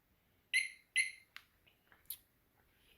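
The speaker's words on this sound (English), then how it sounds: "So you get an alarm that constantly chirps at you and talks to you." Two sharp electronic chirps from a motorcycle alarm in quick succession, followed by a few fainter clicks and a brief higher beep, quiet and nearby.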